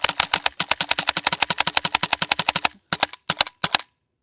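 A GHK G5 airsoft rifle fires BBs in a rapid full-auto string of sharp cracks, loud and close, slowing slightly before stopping, then a few short bursts after a brief pause as the gas power runs low.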